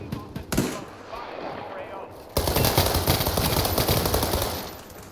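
Gunfire in the shooter World War 3, with scattered shots and then a sustained rapid burst of automatic fire in the second half, heard under a voice commentating.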